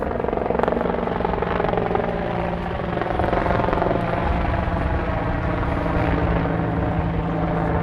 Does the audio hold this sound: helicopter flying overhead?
yes